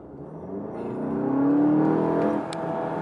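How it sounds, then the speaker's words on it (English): A 2017 VW GTI Autobahn Edition with a turbocharged engine accelerating hard, engine note rising steadily in pitch and loudness, heard from inside the car, then easing off near the end. "When I hit the gas pedal down, the car went."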